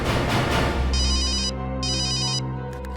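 A telephone ringtone sounds in a crime-drama scene: two bursts of bright electronic ringing separated by a short gap, over a steady low background hum.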